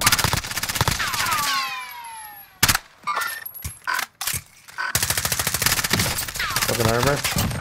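MP7 submachine gun fire in the battle royale game Call of Duty Warzone, loud automatic bursts separated by short gaps, with voices in between.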